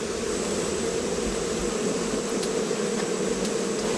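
Wild bees buzzing near hives in a rainforest, a steady dense drone that holds evenly throughout, with a few faint higher flickers above it and no voices.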